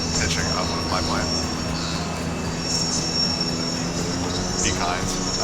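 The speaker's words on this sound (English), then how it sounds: "Don't mind my terrible pitching up of my plane." Airplane in a flight simulator game, flying over Telluride with pitching-up maneuvers, gives a steady engine drone and rushing air throughout, with a person talking over it.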